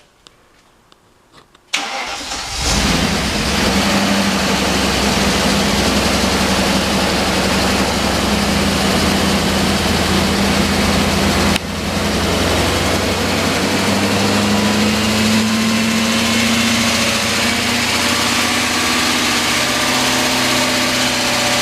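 An engine cranks and catches, then settles into a loud, steady idle that runs on without break, with a brief dip partway through and no talk over it.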